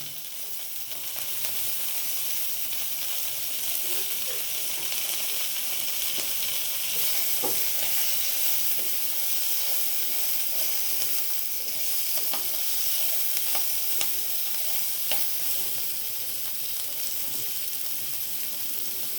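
Green chillies and spring onions fry in oil in a pan for chilli chicken sausage, giving a steady, close, loud sizzle with a few faint scraping clicks of stirring throughout.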